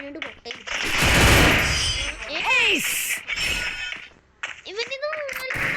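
Free Fire mobile battle game combat with a grenade blast, crashing burst and bursts of gunfire, followed by whooshing effects and more sharp shots, with a person talking over the game sounds.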